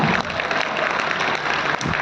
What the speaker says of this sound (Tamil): நல்லா கைத்தட்டல் கொடுக்கலாமே